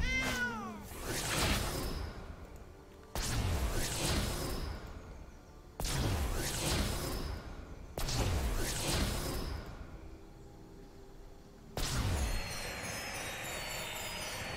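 Cartoonish cat meows from summoned creatures in the digital card game MTG Arena, five separate bursts each opening with a sharp swoosh, loud and close over game music, with no talking.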